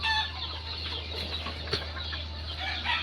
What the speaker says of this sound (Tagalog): Ayan guys, oh, mga manok.